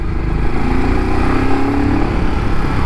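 A Royal Enfield Scram 440 motorcycle engine runs at a steady, even drone, close and loud, with a smooth low hum and no speech.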